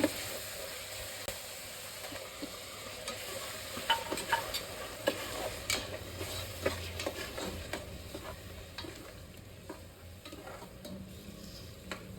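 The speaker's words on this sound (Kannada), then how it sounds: "ಇದೆಲ್ಲಾನು ತಿರುಗಿಸ್ಕೊಂಡು ಹಸಿ ವಾಸನೆ ಹೋಗೋ ತನಕ ಬೇಯಿಸ್ಕೊಂಡಿದ ನಂತರ" Tomato paste frying in a pan for a naati-style biryani, a soft, steady sizzle broken by frequent light taps and scrapes of a spoon stirring the mixture, fairly quiet and close.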